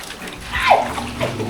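Running shower water splashing while a dog is washed, close and fairly loud, with a brief voice heard under the spray.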